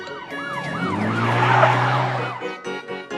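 A cartoon police car siren wails in a park scene, a loud, close, rising and falling electronic tone that swells and then fades, with no talking over it.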